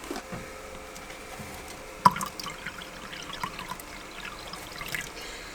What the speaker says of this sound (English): So I'm going to take the opportunity to top up his water bowl.